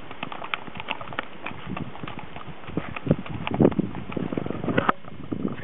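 Horse hooves clopping on a rocky mountain trail high on Ausangate in Peru, irregular uneven steps at moderate distance with light wind noise and little else.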